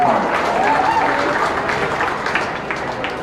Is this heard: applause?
yes